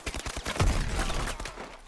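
Loud video-game sniper rifle fire, a booming shot that swells and decays amid other rapid firing sounds.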